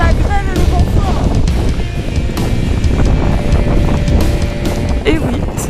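Strong Arctic wind blasts steadily at Tromsø amid hail, roaring in loud continuous gusts against the microphone, with faint tonal whistles and a voice briefly audible beneath the rumble.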